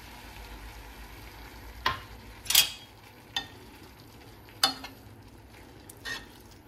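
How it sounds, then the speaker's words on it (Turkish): Chopped dry onion, a large one, sautés in a pan with a soft steady sizzle, punctuated by several sharp stirring scrapes and clinks at irregular intervals. "Büyük boy sayılacak bir adet kuru soğanı yemeklik doğradım. Onu da ilave ettim. Birlikte biraz kavrulsunlar."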